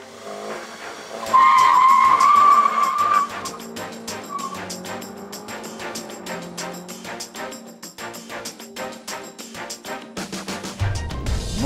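A 2019 Ford Focus ST launches under launch control with a loud tyre screech that fades into engine roar and rapid gear changes as the car pulls away.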